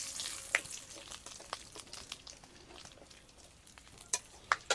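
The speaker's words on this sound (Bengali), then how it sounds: "এবার এখানে আমি ফোড়ন দেওয়ার জন্য দিয়ে দিচ্ছি দারচিনি, 3টে লবঙ্গ, এলাচ এলাচ আর 2টো তেজপাতা" Cinnamon, cloves, cardamom and bay leaves sizzle softly in hot oil for a crab curry, a faint crackling fry broken by a few sharp pops and light stirring clicks.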